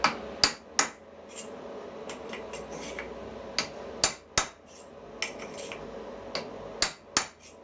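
A hammer taps a transfer punch against a metal chuck back plate in a workshop, giving about a dozen sharp, close metallic strikes in irregular pairs and singles over a low background hum.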